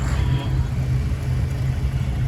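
A 1929 Ford Model A, a 20-horsepower car, idles at an outdoor gathering, its engine a steady low rumble with a faint whir, continuous and fairly close.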